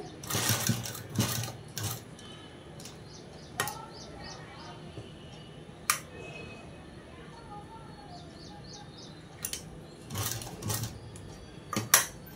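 A sewing machine stitches a prince-cut model dress in short loud bursts of rapid mechanical chatter, separated by quieter pauses with faint background sounds.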